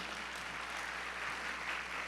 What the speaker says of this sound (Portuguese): Queria salva de palmas para eles.